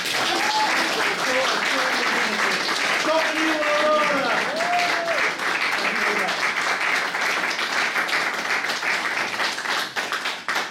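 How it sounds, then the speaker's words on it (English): An audience at a live talk in Hull applauds loudly and densely without a break for about ten seconds, with a few voices and whoops rising through the clapping before it starts to thin at the end. "can we give Ben a big clap?"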